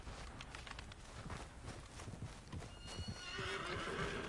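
In the video game Red Dead Online, a horse neighs loudly over steady clip-clopping hooves, with a busy, continuous background.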